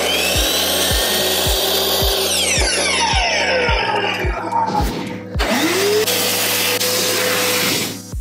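A power tool cuts through pencils, its motor whining steadily with repeated sharp ticks as each cut bites, then winding down partway before a final loud burst, all close and loud with no talk.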